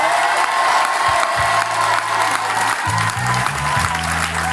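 A church congregation applauding and cheering, dense continuous clapping from a crowd with scattered shouts and voices over it, loud and close.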